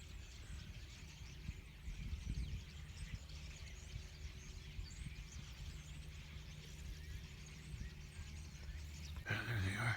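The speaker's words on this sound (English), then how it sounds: "I can hear the birds over that way." Faint bird calls twitter in the distance over a steady outdoor hiss, with a brief louder rustle at the very end.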